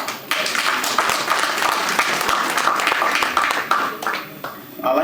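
An audience at a Garifuna veterans' awards ceremony claps loudly and densely for an honoree, a thick wash of applause sustained throughout with a brief lull near the end.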